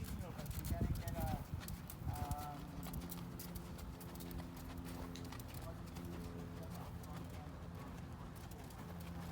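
A horse trotting during a dressage schooling session with leg-yield work, rhythmic hoof beats close by at first and fading, while a person talks over it throughout.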